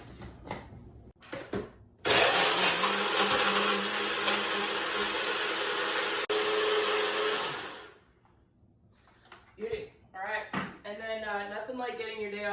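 A blender whirs loudly and steadily for about six seconds while mixing a fruit smoothie, then cuts out, with talking before and after.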